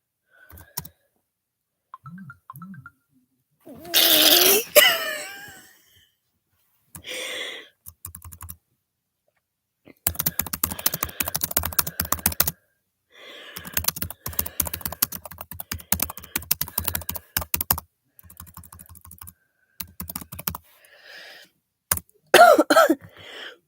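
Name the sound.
typing on a computer keyboard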